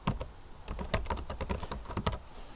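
Quick, irregular keystrokes on a computer keyboard while a note is typed into a text field, close and steady for a few seconds with no talking.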